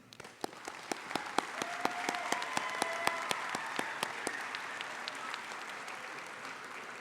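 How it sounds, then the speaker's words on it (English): Commencement audience applauding faculty, staff and administration, a broad steady wash of many hands with distinct sharp claps standing out, fairly distant, gradually thinning and fading toward the end. "Students, please join me in a round of applause for the faculty, staff, and administration who have been instrumental in helping you succeed."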